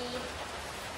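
Rain falls steadily in a soft, even hiss of wide noise, continuous and fairly close, with a faint hint of voice in the background.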